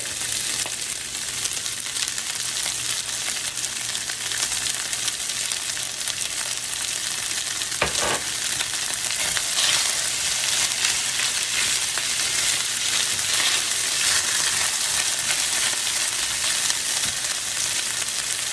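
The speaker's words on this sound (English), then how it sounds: "Just so you can get that nice fry on the rice" Rice fries in a pan with black garlic, giving a loud, steady close-up sizzle and crackle throughout, with brief stirring scrapes and no talking.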